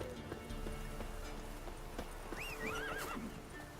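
Roach, Geralt's horse in The Witcher, gives a high wavering neigh over faint hoof clops and a steady background wash of game ambience.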